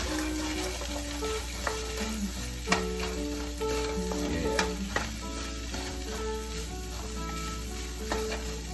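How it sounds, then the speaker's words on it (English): Day-old rice stir-fried and tossed in a hot pan for Korean fried rice, a loud continuous sizzle broken by repeated scraping and clattering of the spatula against the pan, with no talking. "Now we're just gonna mix this in. You wanna break up that old rice. Get everything kind of tossed."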